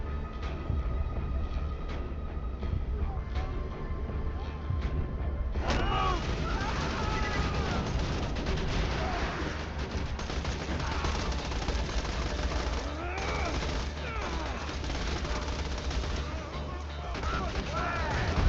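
Gunfire in Borderlands 2 as Axton with a Hoplite shield equipped, dense bursts of shots and impacts running continuously under busy game noise, growing fuller partway through, with speech-like sounds mixed in.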